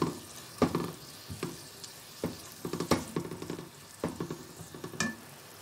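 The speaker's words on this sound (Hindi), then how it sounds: "इसके साथ साथ हमारे जो आलू हैं वो भी फ्राई हो रहे हैं।" Potatoes fry in a pan with tomatoes and onion purée for a mixed vegetable sabzi, a soft steady sizzle broken by repeated stirring scrapes and clatters, with no talk.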